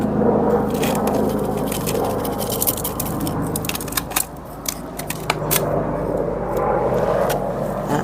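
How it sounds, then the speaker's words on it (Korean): A distant airplane passes overhead as a steady, low droning rumble, while light clicks and taps from repotting a red plum tree sound close by. "비행기 소리도 나고."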